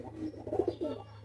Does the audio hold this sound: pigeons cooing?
yes